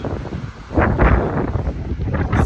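Strong wind buffets the microphone outdoors near the Austria–Hungary border beside a 43-year-old Porsche 944, a loud continuous roar with gusts swelling louder midway, no talking.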